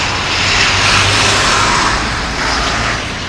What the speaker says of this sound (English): it's a very loud FedEx truck